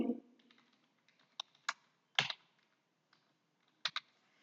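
Sparse typing on a computer keyboard entering a cell address in Excel: scattered sharp key clicks in small clusters, close and fairly quiet, with pauses between strokes.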